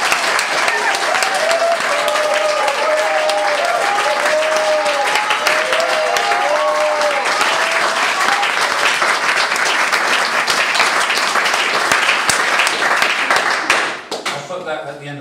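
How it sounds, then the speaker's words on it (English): A big burst of applause, loud and sustained for about fourteen seconds before cutting off abruptly, with voices and melodic vocal sounds woven through the clapping. "let's check my little big burst of applause"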